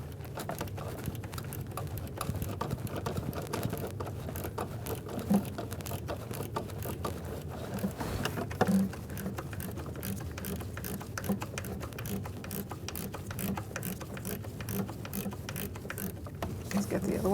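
A 1/4-inch drive ratchet with a T25 Torx bit works on the throttle position sensor screws of a 1997-2006 Jeep Wrangler 2.4L, giving a steady run of fast clicks, close and moderately quiet, with occasional clunks.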